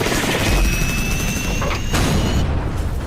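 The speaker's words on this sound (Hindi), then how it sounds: "आर्मी हेलीकॉप्टर ब्लास्ट कर दिया।" A film sound effect of an army helicopter blowing up: a loud, sustained rotor roar and rumble with crashing, booming bursts partway through.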